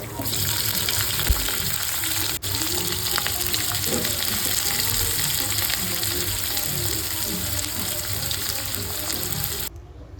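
A dense, steady sizzle of garlic and green chilli frying in oil runs throughout, loud and close, with faint stirring scrapes and a sudden drop at the end.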